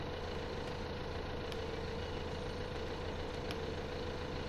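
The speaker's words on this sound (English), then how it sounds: "It's a tractor." Steady low drone of a tractor engine running in Farming Simulator 15, a constant idling rumble with a faint higher hum, continuous and unbroken with no talk.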